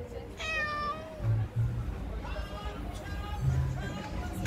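A small kitten gives several high, clear meows over steady low background rumble, with people talking nearby.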